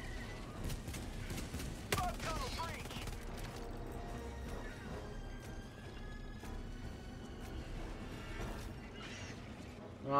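Gunfire in the game Helldivers 2 rattles in dense bursts against bug enemies while a player shouts frantically over the shooting.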